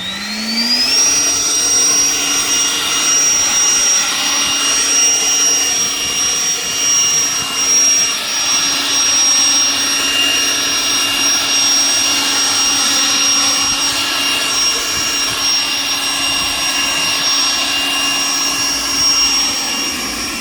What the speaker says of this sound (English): let me give you a demonstration of it real quick. We'll blow some of the leaves and stuff over here.